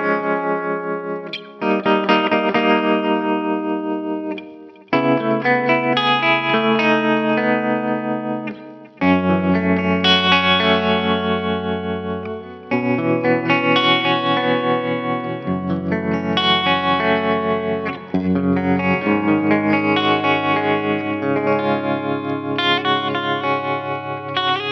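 An electric guitar plays a clean tone with tremolo through a Fractal Audio FM9 modelling a Marshall JTM45, strummed chords ringing loud and close with a pulsing, wavering sustain and brief gaps between phrases.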